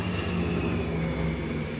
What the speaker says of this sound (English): There's an air show going on today, so like you'll hear planes all the time through this video.